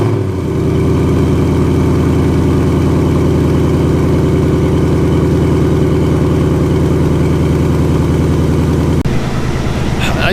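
A supercharged Ford Coyote 5.0 V8 runs loud and close with a steady deep throb, then a brief shift in tone near the end.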